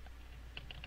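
Quiet keystrokes on a computer keyboard, a few soft separate clicks in quick succession over a low steady hum, faint and without talk.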